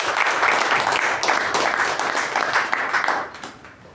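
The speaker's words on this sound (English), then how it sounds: "Let's give both the speaker and the evaluator a good round of applause." A round of applause at a Toastmasters club meeting for a speaker and evaluator, with brisk, dense clapping from a small room audience that holds steady, then tapers off near the end.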